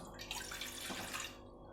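Water pours steadily into a cooking pot for masala tea, a brief close splashing stream that tapers off at the end.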